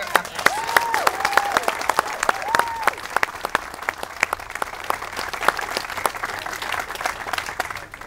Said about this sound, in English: they deserve a big round of applause for their efforts